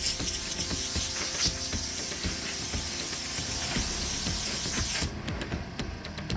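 An air compressor blowing off an old cabinet door during an upcycle, a loud, steady hiss of rushing air close by that cuts down sharply near the end, with no talking.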